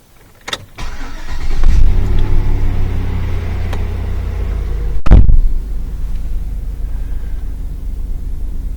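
A Chevy Tahoe engine cranks and catches, then settles into a steady, loud idle with a low rumble; a sharp knock or revving burst comes partway through.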